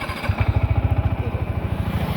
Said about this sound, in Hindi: देखो बाइक स्टार्ट करूँगा।